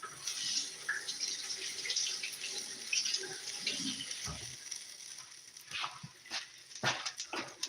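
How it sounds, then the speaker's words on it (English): Water runs steadily from a kitchen tap as a hand is rinsed off after making pancakes, with brief splashes and clatter near the end. "let me rinse this off my hand"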